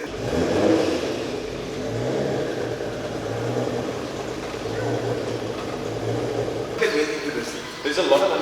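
Nissan GT-R project car, heavily modified, running on a dyno with a steady mid-pitched engine drone and hum that swells slightly in places, fairly close, with people talking over it.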